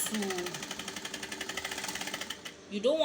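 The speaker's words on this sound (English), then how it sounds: "So you're just going to be sewing." A sewing machine stitches fabric for a shirred smock dress with a quick, even, close mechanical rattle. A voice is heard briefly at the start and end.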